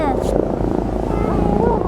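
A loud helicopter throbs close by at the Tokyo Fire Department New Year parade, its rotor noise filling the scene while people talk excitedly over it.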